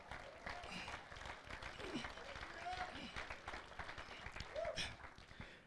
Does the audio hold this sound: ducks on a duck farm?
no